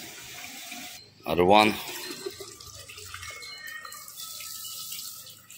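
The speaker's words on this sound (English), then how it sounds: "So we need to fill this up with water." Water splashes and gurgles as it is poured into a diesel-engine water pump to prime it, with a short burst of pouring followed by softer trickling, and a voice briefly speaks over it.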